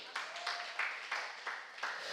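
A church congregation claps together in a steady rhythm, about three beats per second, with six or seven distinct unison claps sounding moderately distant and fairly soft.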